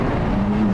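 A Porsche on the Nürburgring Nordschleife gives a brief, steady engine drone with a strong humming tone, close and loud for under a second.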